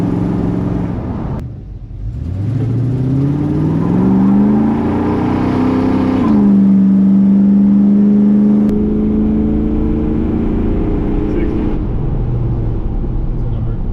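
A C10 Squarebody truck with a 600-horsepower big-block engine accelerates hard from close by, its loud, deep exhaust roar climbing in pitch through the gears over many seconds.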